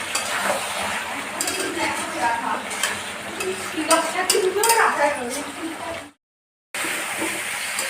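Goat meat being stirred and sautéed in a pot as it starts sticking to the bottom, with close scraping and sizzling plus clinks of a spoon against metal, then a brief dropout before the cooking noise resumes.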